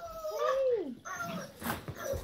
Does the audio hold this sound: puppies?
yes